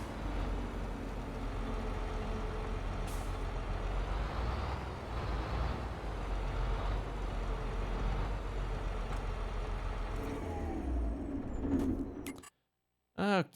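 A truck engine in Farming Simulator 22 runs with a steady rumbling drone and a faint air-brake hiss, ending in an abrupt cutoff and a short burst of sound.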